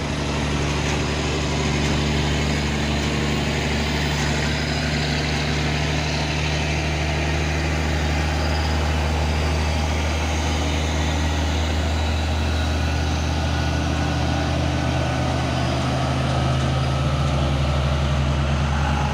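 A Mitsubishi Fuso Super Great truck engine idling on a roadside, a loud, steady low rumble that holds without change, with no voices over it.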